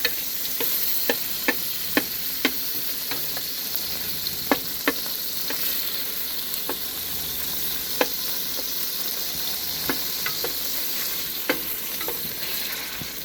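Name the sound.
half a stick of butter melting over medium-high heat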